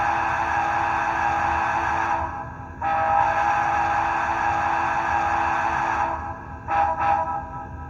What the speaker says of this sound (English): I just like this whistle because it's deep, and I think a big boy whistle should be deep.